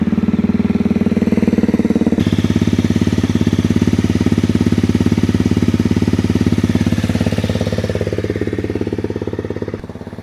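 A Honda CRF250 Rally motorcycle engine runs steadily after an oil and filter change, a loud, even, close-up idle with a rapid mechanical pulse that quiets slightly near the end.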